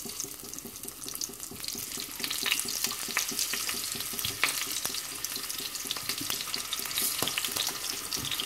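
Sliced potatoes frying in hot oil in the bottom of a pot for a Persian rice tahdig, a steady close sizzle and crackle with scattered pops throughout, no talking.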